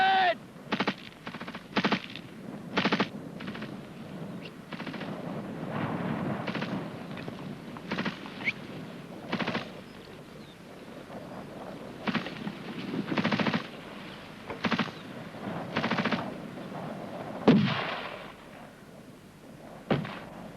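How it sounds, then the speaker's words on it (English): A GPMG general-purpose machine gun rattles off repeated bursts during a military section fire-and-manoeuvre assault drill, short loud volleys spaced irregularly across the whole stretch, with a sharper louder burst near the end. "The GPMG will fire onto the objective as long as possible, switching to beyond it as the rifle group makes its assault."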